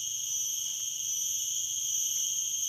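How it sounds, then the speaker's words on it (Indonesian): Crickets at night beside a fishing spot, where someone is using a vertical fishing rod. They shrill in steady, continuous high-pitched bands with no break, alone and at moderate distance. "Ditemani suara jangkrik-jangkrik itu."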